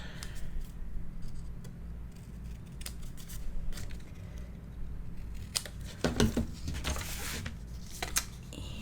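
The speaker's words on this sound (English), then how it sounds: "trim the corners." Scissors snip the corners of paper for a mini album, with quiet, sparse clicks and a brief burst of crisp, close cutting near the end.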